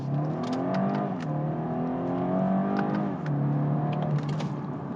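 A BMW M230i coupe in sport and manual mode pulls hard under heavy throttle, its engine note climbing through the revs with a brief dip as it shifts, then climbing again, steady and prominent from inside the car.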